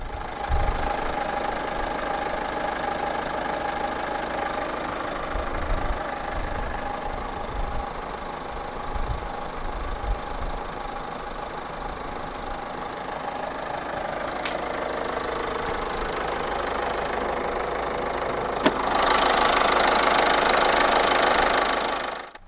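A 2015 Citroën C4 Cactus 1.6-litre turbo diesel inline-4 engine idles with a steady clattering rumble, close and continuous, getting a bit louder and brighter near the end.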